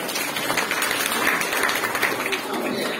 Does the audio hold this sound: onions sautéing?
no